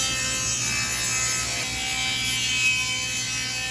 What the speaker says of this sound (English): The first thing I'm going to do is cut a guide rail for the deadman to slide on